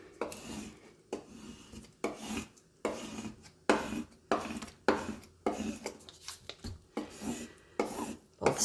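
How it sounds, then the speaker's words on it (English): A scraper works over a trimmed flower shadow box piece in repeated rhythmic rasping strokes, about a dozen short close passes with brief pauses between them. "I'm going to scrape it down well."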